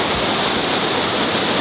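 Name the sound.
Sipyen Waterfall on Kosrae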